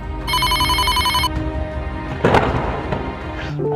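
A cartoon telephone in a Bengali animated ghost story rings loudly with a bright electronic bell for about a second, followed by a dull thud and some quieter rustling.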